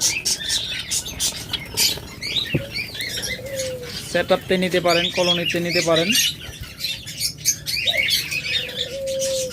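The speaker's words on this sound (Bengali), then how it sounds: "তারপর রয়েছে জাবা পাখি একদম মাস্টার পেয়া জাবা পাখি" Java sparrows and other small cage birds at a sale chirp and tweet in scattered bursts, with a short run of rapid calls in the middle, all heard beneath someone talking.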